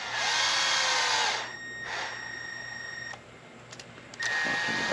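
A power drill on a Redcat Gen8 steering-link job whines loudly for about a second, then winds down, followed by quieter intermittent short bursts and a final high run.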